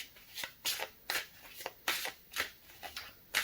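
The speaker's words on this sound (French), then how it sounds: "Alors je prends d'autres cartes ici pour le groupe numéro 2." Tarot cards riffle and slap in quick bursts, about seven crisp shuffling and drawing sounds spaced evenly, close and fairly quiet, with no voices.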